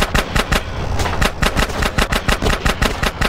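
Rapid bursts of gunfire in the video game GTA San Andreas, loud repeated shots in quick irregular runs with short gaps, heavy and close, with engine noise underneath.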